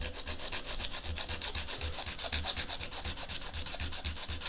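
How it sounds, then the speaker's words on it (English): 240-grit wet and dry sandpaper rubs back and forth over a guitar inlay in a quick, steady rhythm, each stroke a close, scratchy swish repeating evenly throughout. "I'm just going to hit that with some 240 grit wet and dry paper."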